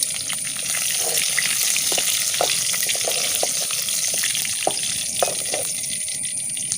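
Crushed garlic, curry leaves and a cut dried chilli sizzle in hot oil in a pan, a steady close frying hiss with small pops and stirring clicks throughout, no talk.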